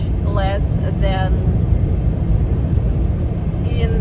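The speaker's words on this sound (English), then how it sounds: "It's a small airplane in the sky." A small airplane drones overhead in Russia's Far East while a car drives along, its faint engine hum buried under loud road rumble and occasional talking inside the vehicle.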